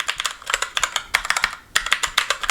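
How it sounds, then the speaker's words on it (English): Clicky keys ring out as a black gunmetal SteelSeries Apex 7 TKL mechanical keyboard is typed on, in quick bursts of sharp clacks with short pauses, close up and bright. "it's a clicky keyboard if you can't hear that"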